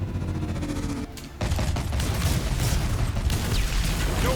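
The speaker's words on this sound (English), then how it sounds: "Tommy gun." Tommy gun fire in the Batman Telltale video game, a sustained loud rattling burst after a short pause, continuing steadily to the end.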